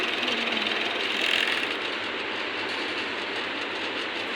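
An overlock sewing machine runs steadily at close range, a dense, even mechanical whir with rapid clattering that holds constant throughout, no voices present.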